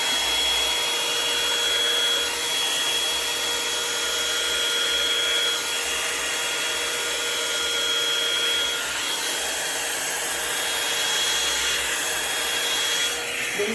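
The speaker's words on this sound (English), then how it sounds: "Turn on our blow dryer. I use high heat." A blow dryer runs on high heat while drying natural hair, a loud steady broadband whoosh of rushing air with a constant motor whine, close and unbroken for the whole stretch.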